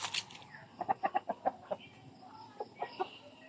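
Farm chickens cluck in a quick run of short, clipped calls, then a few more scattered clucks, fairly close in a quiet yard with no talk.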